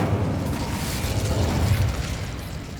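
An Incendio fire spell is cast in the video game Hogwarts Legacy, a dense, roaring burst of rushing flame with low rumble and crackling mechanism noise, loud and sustained for nearly three seconds, with no talk.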